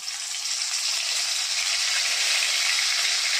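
Mustard and garlic paste sizzles steadily in hot oil, a dense, even hiss that stays loud and close with no talking.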